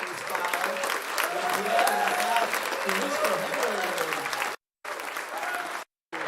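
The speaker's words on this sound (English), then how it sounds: "let's all give a big round of applause," A live audience at a Tel Aviv tech meetup applauds steadily to welcome a speaker, with dense continuous clapping and a few cheers that fill the room, then cut out abruptly in two short gaps near the end.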